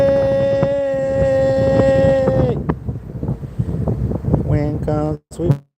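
Strong wind buffets the microphone outdoors while someone is fishing, making a rough, gusty roar. A voice talks and exclaims over it, and a steady tonal drone fades out partway through.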